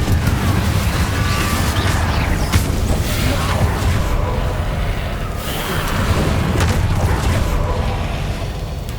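A Confringo explosion spell cast in Hogwarts Legacy, a dense, loud rumbling blast with crackling bursts over a steady roar of magical combat.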